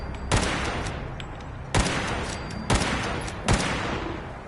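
Loud, heavy gunfire in the video game Fallout 4 rolls over a constant rumbling battle din, with four sharp punctuating blasts spaced about a second apart.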